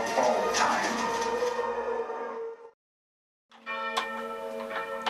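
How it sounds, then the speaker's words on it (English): A church's special pancake bell rings on Shrove Tuesday in an English village, sustained metallic tones resonating, cut by a brief silence before the ringing resumes. "Shrove Tuesday is always observed by the ringing of the special pancake bell."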